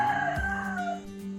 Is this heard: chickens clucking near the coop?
yes